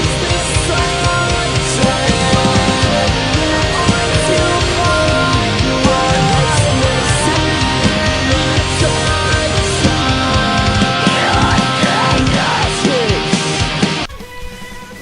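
A post-hardcore song plays loud and continuous, with distorted guitars, pounding drums and keyboard layers in a dense wall of sound, cutting out abruptly near the end.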